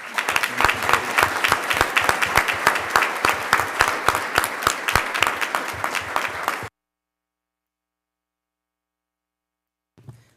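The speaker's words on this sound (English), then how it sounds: "Could you join me in a round of applause for these?" A board of trustees meeting audience claps in a round of applause for honorees, sustained and brisk for about six seconds, then breaks off into silence with a brief faint sound near the end.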